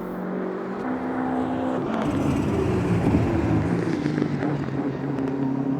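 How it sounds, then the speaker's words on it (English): A racing car engine in the sim game Automobilista 2 at Kyalami's 1976 historic layout roars steadily, rising in pitch as it accelerates, loud and continuous with no voices. "Can hear the engine roaring."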